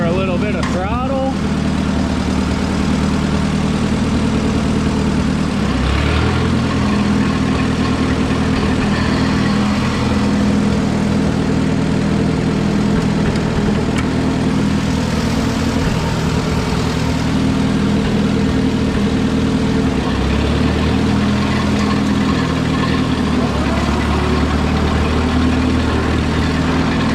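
A tractor engine idles loud and close with a deep, steady rumble, picking up slightly as it is put in reverse and given a little throttle; a voice speaks now and then over the engine.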